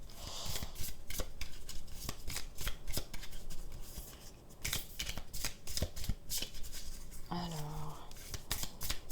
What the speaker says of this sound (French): je vais bien battre les cartes